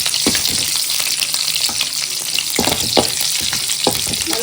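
Cinnamon, cloves and cardamom fry in hot oil in a pan with a steady, bright sizzle and crackle, punctuated by several stirring scrapes, close and continuous with no voices.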